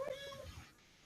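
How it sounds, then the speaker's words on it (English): A baby kitten gives a single short, faint meow, heard alone and fading quickly. "It sounds like a baby kitten."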